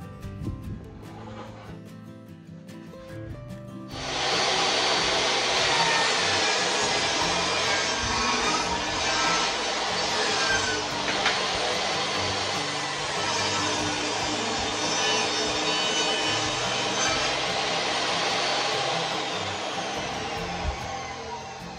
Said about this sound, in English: I'm going to do one more run through my table saw and get the center piece on that piece of decking board